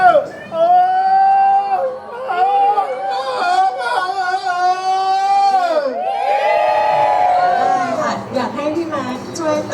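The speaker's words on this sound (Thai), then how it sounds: "เราก็จะขอ โห่ต้อนรับขบวนขันหมากด้วยนะคะ" A crowd of voices whoops and cheers in long rising and falling calls, loud and close, with children's shouts mixed in, welcoming a Thai engagement procession.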